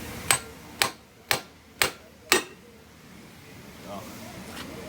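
A hammer strikes a part of a salvaged electric motor five times in a steady rhythm. Each hit is a sharp, close metallic knock with a short ring, followed by quieter handling noise.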